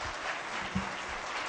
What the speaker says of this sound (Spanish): pido un aplauso para el doctor